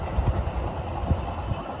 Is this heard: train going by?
yes